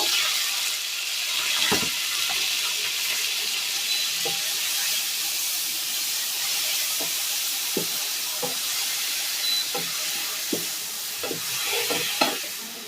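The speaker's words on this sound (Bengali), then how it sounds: "এবার পেঁয়াজটা দিয়ে দেব পেঁয়াজটাকে ভালো করে ভেজে নেব" Onions fry in a pan of hot oil, a constant soft sizzle broken by intermittent stirring clicks and scrapes, no talking.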